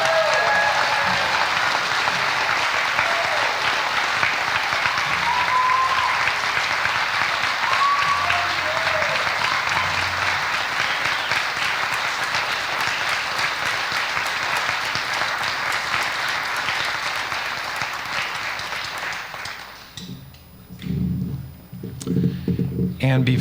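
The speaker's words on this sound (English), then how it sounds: "Would you give them a round of applause," A high school band spring concert audience applauds the seniors, sustained loud clapping filling the hall for nearly twenty seconds before fading into a few scattered claps and voices.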